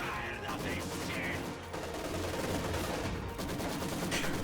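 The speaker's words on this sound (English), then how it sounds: "machine gun's always going to fire out of it" Sustained machine gun fire and scattered gunshots from a Company of Heroes 2 battle, a dense, continuous crackle of rapid shots running throughout at steady loudness.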